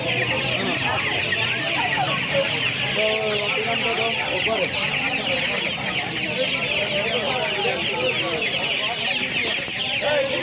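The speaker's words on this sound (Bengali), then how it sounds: "দেখুন, কাকার কাছে সোনালি মুরগি আছে।" Sonali chickens crowded at a busy poultry market cluck and squawk continuously, a dense, loud, close flock chorus with murmuring voices of people mixed underneath.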